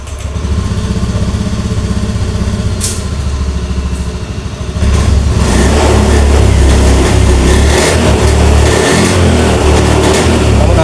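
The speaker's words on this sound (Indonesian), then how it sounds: "Oke, nyala stasioner. Nyalakan lagi, starter lagi." An automatic scooter engine with a hard-starting, stalling fault cranks and fires up, then settles into a loud, steady idle with a slight rise in pitch and a few uneven revs, recorded close up.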